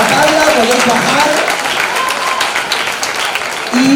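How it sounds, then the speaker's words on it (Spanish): Studio audience applauds on the Spanish TV impersonation talent show Tu cara me suena, steady dense clapping throughout, loud and close, with a host speaking over it. "Aplauso para Nicolás y para Paula"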